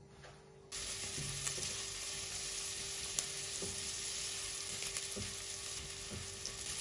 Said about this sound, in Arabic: هلا بقليهم على الغاز.